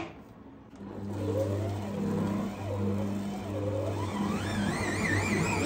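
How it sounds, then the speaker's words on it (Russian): A food processor motor whirs steadily as it mixes stollen dough with candied fruit, a loud continuous mechanical drone with slight pitch shifts, running alone without talk. "мы перемешиваем это дело в машине"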